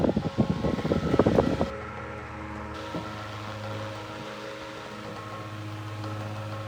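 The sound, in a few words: vintage 1940s Mastercraft 8-inch desk fan running, rattling slightly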